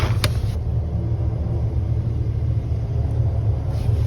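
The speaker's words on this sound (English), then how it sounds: "Now I hear really fast driving" A car drives fast somewhere nearby at a campsite, a continuous low rumbling engine and road roar that holds steady and fairly loud for several seconds, with no voices.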